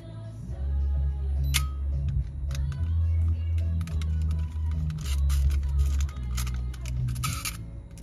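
The mechanical self-timer of a Pentax AF35M film camera whirs and ticks steadily for several seconds, close and fairly loud, with small clicks and a low hum underneath.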